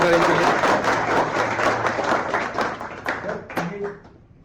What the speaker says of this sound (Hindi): क्या बात है, ताली बजा दी